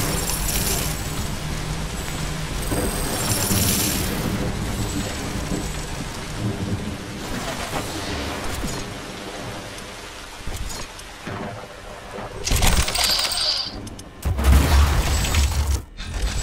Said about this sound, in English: The storm is over.